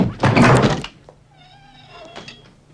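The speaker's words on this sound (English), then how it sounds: "Oh, she's gonna open the door." A door opens in the 1989 film Uncle Buck with a loud, solid thunk and rattle up close. A faint tonal hum and a quieter bump follow.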